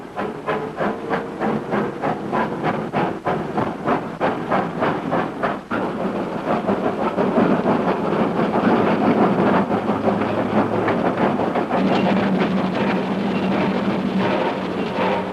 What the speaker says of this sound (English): the smoke and steam and bustle of the shunting yards